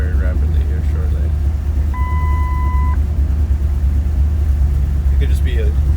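A Ford F-250 engine idles roughly with a misfire, making a loud, continuous low rumble close by, while a brief steady beep tone sounds partway through.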